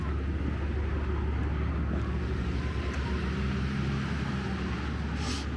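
A 2011 Volkswagen Golf GTI with a manual gearbox and stock exhaust gives off a deep, steady low rumble, heard close and continuous under some wind noise.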